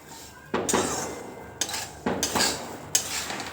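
Salted peanuts coated in salt are stirred in a pan for home-style roasting, giving three or four scraping, rattling bursts of nuts and utensil against metal with short pauses between.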